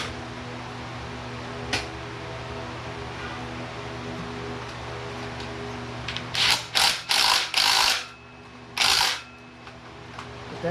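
Ratchet wrench clicking in several quick bursts while bolts are tightened on the aluminum timing cover of a 2000 Ford Expedition engine, close and fairly loud over a steady background hum, with no talking.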